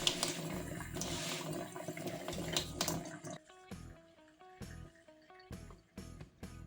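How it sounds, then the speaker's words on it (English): Water from a tap running into a sink as a sponge is wetted, a splashing stream at first, then broken into short spurts and drips, fairly quiet. "Wet the sponge and sink with water."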